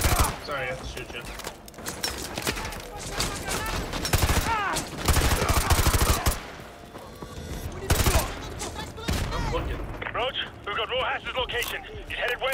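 Rapid bursts of automatic gunfire and scattered shots from the Call of Duty: Modern Warfare 2 Remastered campaign, in a favela firefight, loud and dense, with voices talking over the shooting.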